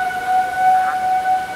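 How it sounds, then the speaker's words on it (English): Civil defense sirens sounding a tornado warning from a high school in Lincoln, Nebraska, a steady, loud sustained tone held without a break, heard alone. "Southeast High School sirens are going off."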